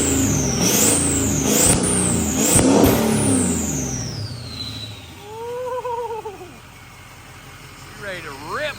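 A badly built budget diesel engine revving hard, loud and close, with rising and falling roars in the first half before settling to a rough idle; whistling chirps and voices come in near the end.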